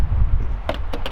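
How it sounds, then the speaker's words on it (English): Low rumbling wind buffets the microphone at a campsite on the north rim near Monument Valley, with a few brief clicks or knocks near the end. "Excuse the wind, it's a little windy."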